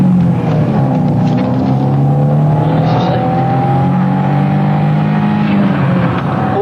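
A suspicious car fleeing a police patrol and helicopter drives past with a loud, steady engine rumble and shifting revs, mixed with a continuous low drone from overhead, close and unbroken throughout.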